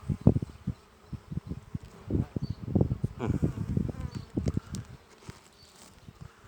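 Dense buzzing of many honeybees close by, with irregular bursts of louder wingbeat hum and some rustling, no speech.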